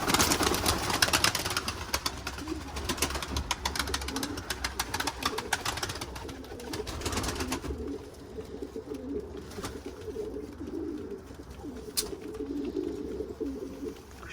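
Pet pigeons cooing outdoors on a fine day, with a burst of rustling and flapping-like noise early on, then repeated low coos continuing near the listener.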